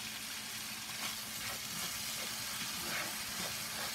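Chicken broth poured into a hot pan of Jamaican beef patty filling, giving a steady close sizzle and hiss of liquid hitting hot meat with faint stirring throughout.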